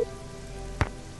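Steady rain falls in the Nancy Drew: Legend of the Crystal Skull game, a soft even hiss throughout with one brief louder splash or thump near the end.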